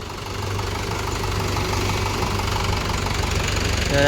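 A tractor engine runs steadily nearby at a drainage line works, a continuous low rumbling chug with a rhythmic knock, growing slightly louder toward the end.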